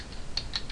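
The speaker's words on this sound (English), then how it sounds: "I'm just pressing all the buttons on my keyboard right now, not my mouse at all" Computer keyboard keys pressed while arrow keys move an object in a simple PyGame program; a few soft, sparse clicks at moderate distance over low background hum, no talk.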